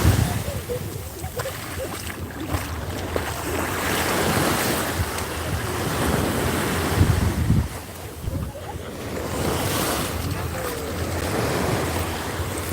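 Ocean waves wash steadily onto the beach at Nha Trang, a continuous loud surf roar swelling and receding, heavily mixed with wind buffeting the microphone.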